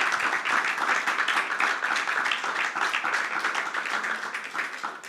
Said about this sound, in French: On peut les applaudir très fort pour cette vidéo.